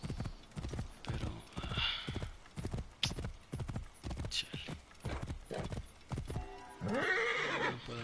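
Horse in a video game clip-clopping at a gallop with a steady rhythm of hoofbeats, then letting out a loud whinny near the end, while a player speaks briefly over it.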